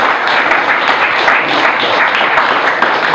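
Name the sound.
audience applause for a panel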